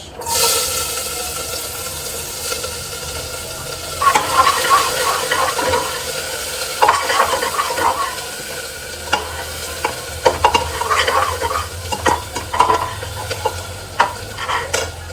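Onions frying in a pan while being stirred, a steady sizzle broken by repeated scraping and clattering strokes of a spatula against the pan, close and fairly loud, with no talking.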